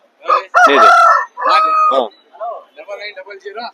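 At a livestock market, chickens give loud, close crowing and clucking calls in several bursts over a few seconds, with rising and falling strained tones.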